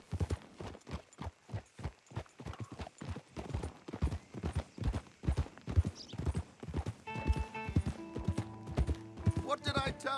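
Horse hooves clip-clop in a fast, steady galloping rhythm in Red Dead Redemption 2, close and prominent, with a mechanical rattle joining near the end and a voice speaking briefly.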